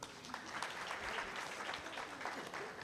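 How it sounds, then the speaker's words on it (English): An audience claps steadily at a university alumni lecture, welcoming a visiting high school group; dense, even applause throughout, moderately distant and filling the room, with no talk over it. "Let's clap for them."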